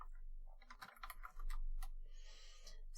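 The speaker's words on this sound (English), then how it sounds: "Oh, I'm typing." Computer keyboard typing during cyber security lab setup, a quiet run of irregular key clicks with a steady low background hum and no speech.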